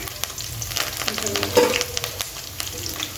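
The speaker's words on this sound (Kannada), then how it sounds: "ಮಿಕ್ಸ್ ಮಾಡ್ಕೊಂಡು ಫ್ರೈ ಮಾಡ್ಕೊಳ್ತೀವಿ" Curry leaves, peanuts and onion fry together in a pan for churumuri, a close sizzle with stirring scrapes and occasional sharp crackles and clunks.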